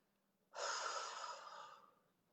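A single long, breathy exhale begins abruptly after a short silence, close and soft, gradually tapering off over about a second and a half.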